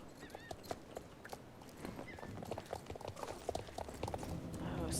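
Horse hooves clip-clop at a steady walking rhythm in the Star Stable Online video game, even and moderately close, with a faint whinny in the background and no talk.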